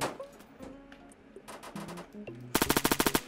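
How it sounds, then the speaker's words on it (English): Gunfire in the Roblox shooter Realistic Home Defense. Scattered shots and game effects build into a loud, rapid automatic burst of evenly spaced shots over the last second. "as you can see, there's a lot of shooting going on here."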